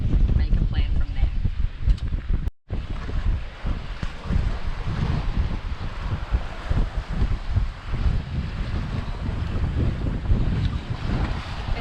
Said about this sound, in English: So now we are going to try and sail back in, at least into the bay before the marina